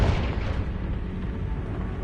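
A Confringo fire spell blasts in Hogwarts Legacy, giving a loud, close boom at the start that trails off into a low, rumbling roar for about two seconds.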